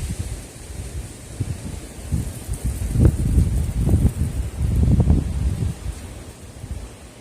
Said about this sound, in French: C'est rafale de vent.